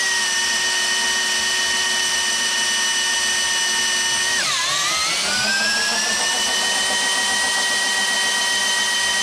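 An Oliver 1850 tractor running in underdrive while its three-speed is tested, giving a loud, steady engine whine that briefly dips and sags in pitch midway before recovering and holding constant.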